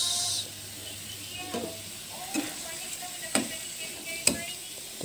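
Spicy meatballs (pentol pedas) frying in a pan, a soft steady sizzle broken by several distinct scraping stirs of a utensil, close and fairly quiet.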